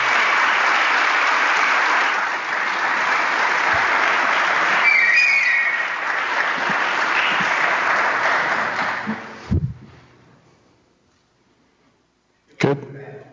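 An audience applauds volunteers at an elections event, with steady, dense clapping that holds for about nine seconds before dying away, followed by a near-silent pause and a brief thump.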